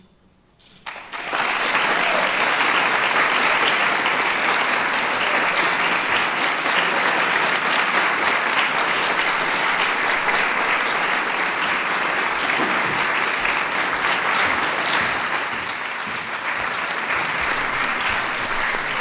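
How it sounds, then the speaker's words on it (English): Audience at the National Medals of the Arts awards ceremony bursts into loud, sustained applause that starts abruptly and holds steady for nearly twenty seconds, a dense wall of clapping from a large crowd. "Let's give one more big round of applause to our outstanding recipient"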